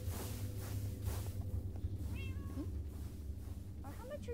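A house cat gives a couple of brief, quiet meows over a steady low hum, with a person talking faintly nearby.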